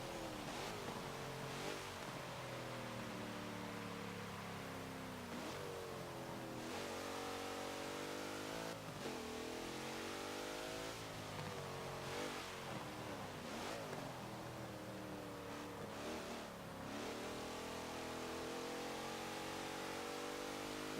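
A 2018 Dodge Durango SRT engine revs hard around a track lap in Forza Motorsport 7, repeatedly climbing through the gears with rising whines and brief dips at each shift, loud and continuous without talk.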